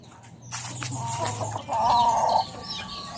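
Backyard chickens cluck and squawk close by in a short burst of repeated calls, the loudest squawk near the end, with no talking.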